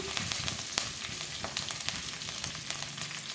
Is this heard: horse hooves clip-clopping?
no